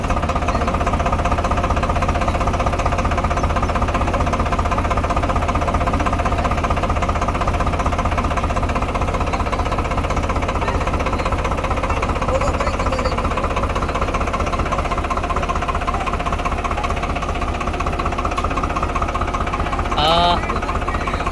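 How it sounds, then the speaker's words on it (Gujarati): A tractor engine chugs steadily and loudly in a field during sowing, a constant low rumbling drone with a faint brief clatter near the end. "ટ્રેક્ટર લઈને આપણે નીકળી ગયા છે વાવણી કરવા"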